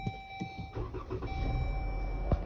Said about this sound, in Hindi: गाड़ी को स्टार्ट कर देते हैं